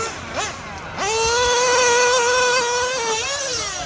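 A nitro RC car with a DYN.28 engine whines at a high pitch, briefly revving, then climbing to a loud, sustained buzzing scream, heard up close and fading slightly at the end.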